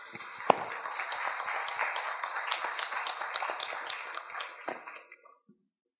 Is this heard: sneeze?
no